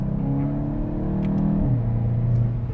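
2022 VW GTI base S engine pulling under DSG paddle shifts, a steady loud in-cabin drone that climbs in pitch, then drops sharply at a quick upshift and settles into a lower hum, no speech.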